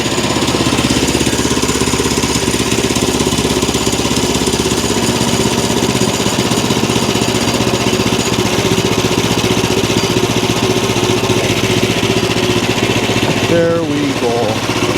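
A sawmill's small engine idles steadily without the choke, a loud continuous knocking chug with a fast even rhythm, heard up close with no talk, the running briefly dipping near the end.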